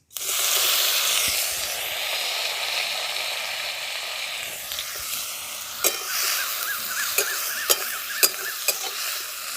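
Chopped tomatoes hit a hot mustard seed tempering and burst into a loud hissing sizzle that slowly settles into a softer fry, followed by a few sharp clinks of a spoon stirring the pan. No one speaks.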